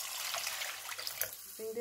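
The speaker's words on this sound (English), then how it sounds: "For 2 cups of rice, I'm gonna add 4 cups of water." Water pours steadily into a cooking pot for rice, a close, continuous hissing splash lasting under two seconds and ending as the flow stops.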